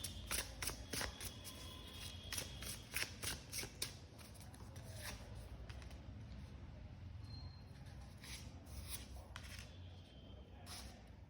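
A tarot card deck shuffled by hand: rapid riffling and flicking card snaps in bursts over the first few seconds, then softer intermittent shuffling against a low background hum, fairly close.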